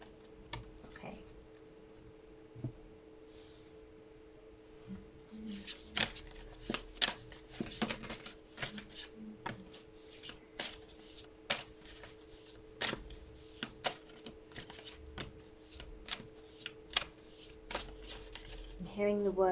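Tarot cards being shuffled repeatedly up close, a run of crisp riffling and slapping bursts over a quiet background hum.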